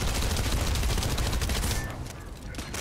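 Gunfire in The First Descendant, heavy continuous automatic shooting packed into a dense, loud roar that thins slightly toward the end.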